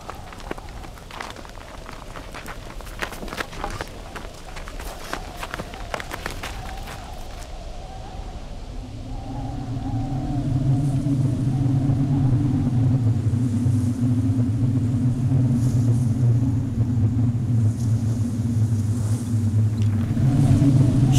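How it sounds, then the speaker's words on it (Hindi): A storm rolls in with a steady roar of wind and a deep continuous rumble that grows louder and fuller halfway through, after an earlier stretch of crackling, rain-like noise. "तूफान शुरू हो गया है"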